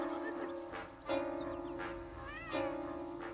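Several cat meows, high and drawn out with rising and falling pitch, fairly close over a steady background hum.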